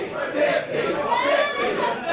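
A wrestling arena crowd at a women's holiday special roars and chatters in a sustained, dense wall of noise, with mixed shouts and voices blending together.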